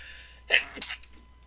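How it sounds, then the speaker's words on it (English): A single quick sneeze, fairly faint, with a short sharp burst followed by a breathy release in a quiet room. "Had to sneeze."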